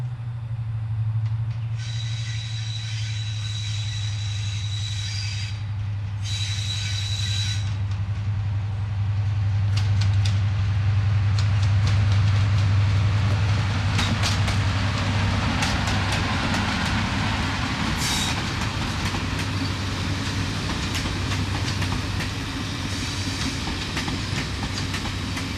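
Steam locomotive Royal Scots Grey rolls into Ramsbottom station with a steady low rumble, clickety-clack of wheels and brief squeals, holding close and loud for a long stretch before easing to an idle.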